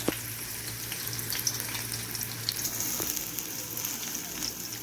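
Chopped onions fry in hot oil in a kadhai, giving a steady soft sizzle and crackle with a few light clinks. No one speaks.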